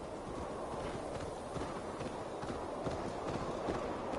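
Horse hooves clopping at a steady run in Assassin's Creed Valhalla, rhythmic footfalls set against a wash of background game ambience, moderately faint.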